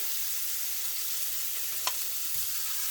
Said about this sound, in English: transfer the meatballs to the frying pan